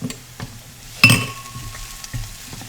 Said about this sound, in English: So now I'm gonna add the garlic. We're gonna cook that for about a minute until it's fragrant.